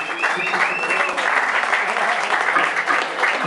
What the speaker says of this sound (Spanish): Un aplauso, por favor, para todo lo que se armó, todo lo que se organizó.